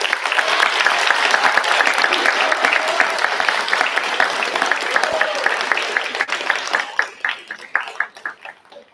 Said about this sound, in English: 7th and 8th grade students, please give your parents a round of applause.